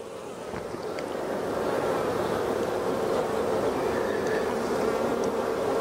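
Honey bees buzz loudly and steadily around an open beehive, a dense continuous drone from a close swarm as the hive boxes are worked, with no talking.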